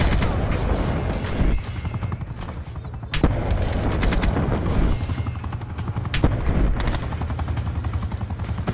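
Rapid gunfire from the RK7 Garrison pistol in Call of Duty: Black Ops 4 multiplayer, a dense run of sharp shots with a few louder bangs over steady game noise, close and continuous.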